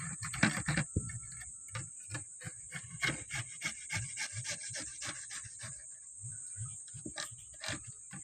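Boiled jackfruit seeds are rubbed against a hand grater in a series of quiet, rhythmic scraping strokes over a faint steady background tone.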